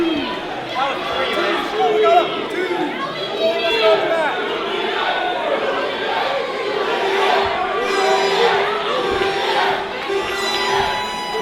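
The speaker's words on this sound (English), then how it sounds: "The crowd chanting for Julian." At a live IHW professional wrestling event, the arena crowd chants for a wrestler named Julian. Loud, sustained chanting and cheering fill the hall with rhythmic swells, set among general crowd noise.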